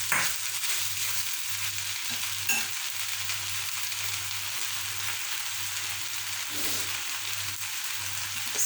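Vegetables and saltfish fry in a pan with a loud, steady sizzle close by, a few brief stirring knocks breaking through the constant crackle, and no talking.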